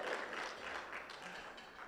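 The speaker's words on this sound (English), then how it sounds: "Yeah, you should clap for it." Audience applause at a business podcast event in San Antonio, a faint, steady patter of clapping from a small crowd, heard alone at low level.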